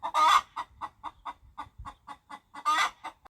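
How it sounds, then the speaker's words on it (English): A hen clucks in a quick, steady series of short, close clucks, with louder, drawn-out calls at the start and near the end. "H for hen."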